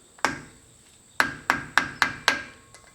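Metal hammer blows bending the tabs of a lock washer on a Land Cruiser front wheel hub: one isolated strike, a pause, then four evenly spaced sharp ringing taps, close and loud.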